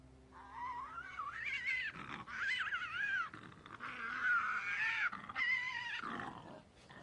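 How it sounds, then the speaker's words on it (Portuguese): A threatened quoll, a small carnivorous marsupial, gives a run of wavering high cat-like cries and growls, loud and close, with brief pauses between calls and no talk. "um gato coal, um marsupial carnívoro que também está ameaçado"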